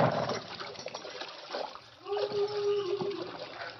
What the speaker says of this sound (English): There's water here. It's running water, too.